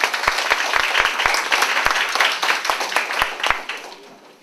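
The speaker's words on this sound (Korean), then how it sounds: "큰 박수 부탁드립니다." An audience at a church parents' lecture welcomes a pastor to the stage with brisk, steady applause and some sharp individual claps, tapering off toward the end.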